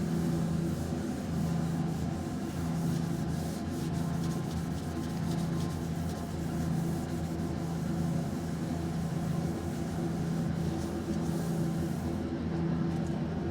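A pad gently rubs marker off a polyester lithography plate, making a soft, steady scrubbing hiss in close, even strokes over a faint low hum, with no voices.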